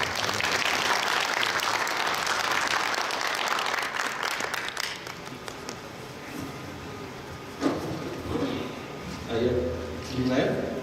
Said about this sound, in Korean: 큰 박수를 맞이해 주십시오